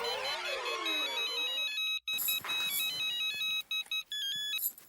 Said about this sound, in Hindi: किसी और का भी फोन बज रहा है।